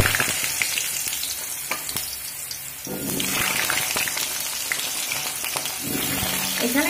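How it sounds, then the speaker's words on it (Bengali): Potatoes frying in hot oil in a pan for a cabbage vegetable dish, a steady crackling sizzle with occasional stirring clinks, close and fairly loud, without speech. "এবার এই তেলের মধ্যে আলুগুলো ভেজে নেব।"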